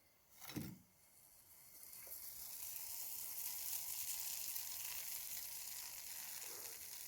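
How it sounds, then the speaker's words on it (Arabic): Hot fried chebakia, a Moroccan sesame and almond pastry, is dropped into honey with a short loud splash, followed by a steady soft sizzle and bubbling that holds for several seconds. "خاصك تسمع داك الصوت دارتو، يعني طفات في العسل"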